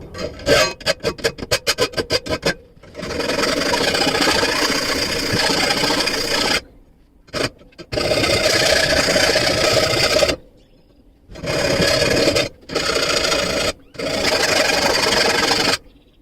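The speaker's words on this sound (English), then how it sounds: "I think we're just gonna start filing" A metal file rasps on a clamped lawn mower blade. Quick short strokes come first, then long, steady, harsh rasping strokes separated by brief pauses, loud and close with nothing else heard.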